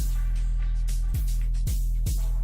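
A sustained Nexus 'Illusion' synthesizer pad in FL Studio Mobile with deep bass and bright shimmering layers, punctuated by a few soft rhythmic hits, playing alone.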